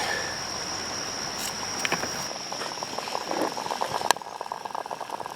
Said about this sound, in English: that's the alcohol boiling inside the stove